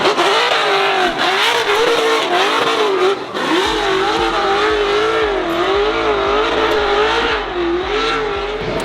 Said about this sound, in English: one of our partners at FDF Race Shop, Jose, is about to hit the track.